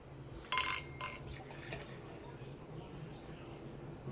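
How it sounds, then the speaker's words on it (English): Mickey's Fine Malt Liquor is poured aggressively into a glass, a sudden splashing gush followed by a fizzing, foaming settle, heard close up beneath quiet room tone. "let's go ahead and get a pour on this"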